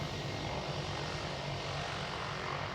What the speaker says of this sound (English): Let's see, British Airways takeoff.